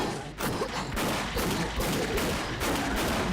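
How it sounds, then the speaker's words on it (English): Rapid bursts of weapon gunfire from the Doom 3 video game, sound design by Trent Reznor: dense, loud, near shots and sustained automatic fire with a few brief pauses, heard alone without any talking. "You hear the different weapon sounds? That's weapon sounds made by Trent Reznor from 9 Inch Nails."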